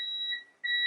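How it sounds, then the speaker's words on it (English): A home doorbell rings as a steady two-tone electronic chime, broken by a short gap before the same tones return, fairly clear and with no talking. "that's my doorbell"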